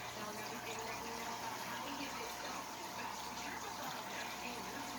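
Water gushes steadily into a 55-gallon saltwater aquarium from a dolphin-shaped fountain, a constant close splashing and trickling hiss that runs unbroken throughout, with no talk over it.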